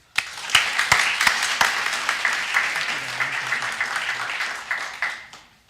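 An audience at a university policy talk applauds to welcome a speaker. The clapping is loud, dense and sustained for several seconds before it tapers off.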